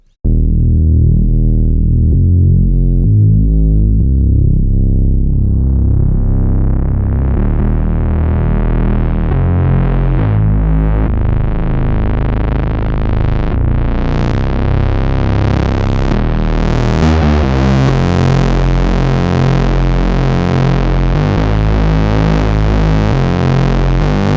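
A cinematic analog film bass synth patch pushed through analog distortion, starting as a low droning buzz, then opening up brighter and grittier with swelling, snarling harmonics that sustain loudly and continuously.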